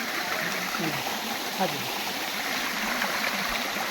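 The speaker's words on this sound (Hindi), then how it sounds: "बहुत ही पानी का बहाव बहुत तेज है और ऊपर से जब गिर रहा है" A hidden waterfall at Govindpur, Nawada pours down with a strong, fast flow, a dense steady roar of rushing water filling the scene, with a brief voice over it.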